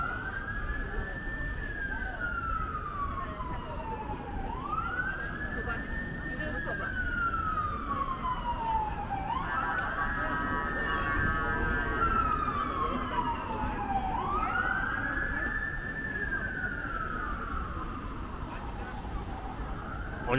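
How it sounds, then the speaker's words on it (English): A fire truck's wailing siren rises and falls in repeated long sweeps on a Toronto street near the U of T St. George campus, moderately distant over steady traffic noise, with a brief yelp-like passage in the middle. "Oh, I hear sirens."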